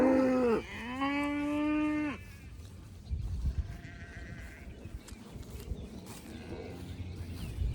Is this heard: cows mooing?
yes